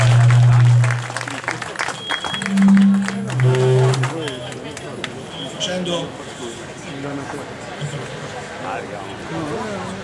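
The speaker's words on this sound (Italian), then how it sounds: "possiamo anche fare un grande applauso a Nino Moreno" An award-ceremony audience breaks into applause, loud clapping at first that thins out as a voice speaks over a murmuring crowd.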